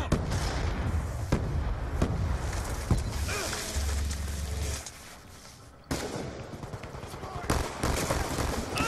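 Gunfire in the tactical shooter Ballista on the Slums map: sharp shots and bursts crack out repeatedly over a busy, noisy background, with a short quieter gap partway through.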